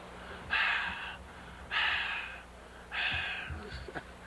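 A voice imitates a large black bear, at least 300 pounds, breathing against a cabin window at night. Three slow, loud, raspy huffing breaths come at an even pace, close up.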